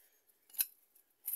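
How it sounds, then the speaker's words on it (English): Scissors snip a Persian shield plant cutting taken from the mother plant, giving two or three quiet, sharp clicks spaced about half a second apart, close to the microphone with no talking. "we are going to snip right here with the scissors"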